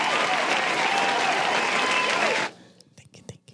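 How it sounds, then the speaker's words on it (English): Studio audience clapping loudly and steadily for about two and a half seconds, then cutting off abruptly, leaving scattered faint sounds and a few brief noises afterward. "Do the clap thing"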